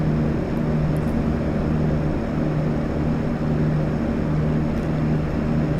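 Twin Otter twin turboprop engines from the FSX flight simulator drone steadily and loudly throughout, a constant propeller hum during a landing approach with power being reduced.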